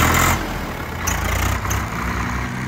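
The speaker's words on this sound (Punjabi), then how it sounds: "ਆਹ ਦੇਖੋ ਮੁੰਡੇ ਇੱਧਰ ਟਰੈਕਟਰ ਲਾ ਰਹੇ ਹਾਂ ਬਾਈ" A New Holland 3630 tractor with only about 175 hours of use runs nearby, its diesel engine giving a steady, low idling rumble that holds at an even level throughout with no voices.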